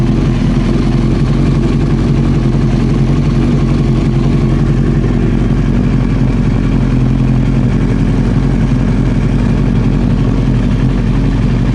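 A Honda CBR 900 Fireblade motorcycle engine runs steadily at idle with a loud, continuous low rumble and faint irregularity throughout, no voices present.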